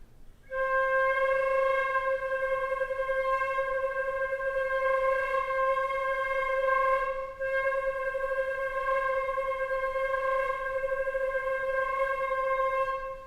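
A flute holds a steady single pitch throughout, tongued in shifting rhythmic patterns, clear and close with no talking.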